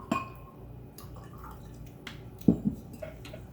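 Sparkling wine poured into a glass at a bar gives soft trickling and dripping with a couple of clinks, close and fairly quiet, with no talking.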